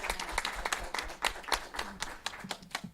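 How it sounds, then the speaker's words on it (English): Applause at a school district board meeting, with distinct individual claps from a small group sounding fairly close, a sparse and uneven patter rather than a dense roar. "we applaud you, Mission Bank."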